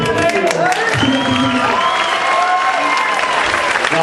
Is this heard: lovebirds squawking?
no